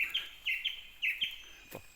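Small songbird singing nearby, a series of bright, quick chirps and short phrases repeated in an irregular rhythm, fairly faint and without voices.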